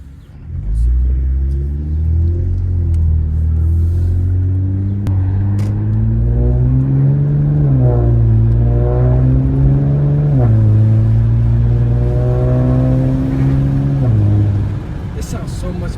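Infiniti Q50 with a newly installed exhaust setup, its engine droning loud and steady with rising and falling revs close by, dropping off near the end.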